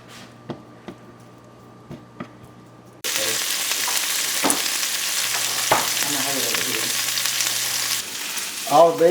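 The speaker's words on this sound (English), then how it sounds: "Our bacon is rendering" Bacon rendering its fat in a pan on a home stove: after a few quiet clicks, a loud, close, continuous sizzle erupts and holds steady, with soft stirring scrapes over it and no talking.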